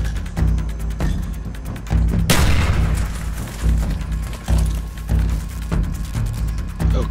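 A grenade blast in the Call of Duty: Black Ops campaign, one loud sudden boom with a rumbling tail, set against a dense bed of gunfire and battle noise.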